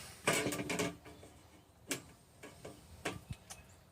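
A plastic lid latched shut on a Vevor lawn spreader loaded with peat moss, giving a few sharp clicks and snaps spread across a few seconds, close and fairly quiet.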